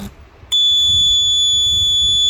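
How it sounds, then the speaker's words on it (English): An RF well water pump controller sounds its alarm after power is cut to a faulty pump: a loud, steady high-pitched electronic beep that starts abruptly and holds continuously, with no talk. "the system will sound an alarm telling me which pump is faulty"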